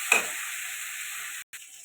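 Ground dried red chili and cumin paste sautéing in a pan with turmeric for a cauliflower, potato and egg curry, a steady close sizzle and hiss that stops briefly near the end.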